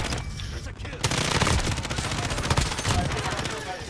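Rapid automatic gunfire in Modern Warfare on the small Shipment map, a loud sustained burst of evenly spaced shots starting about a second in and continuing to the end, with a player talking under it.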